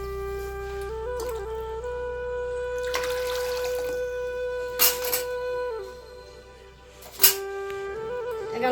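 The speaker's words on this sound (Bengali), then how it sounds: "ইঁচড় সিদ্ধ করার জন্য দিয়ে দিব জল।" Water is poured into a pot to boil jackfruit for a vegetarian dish, a steady running, trickling pour heard over a faint, constant hum, with a couple of clinks of utensils.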